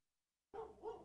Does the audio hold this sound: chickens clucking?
no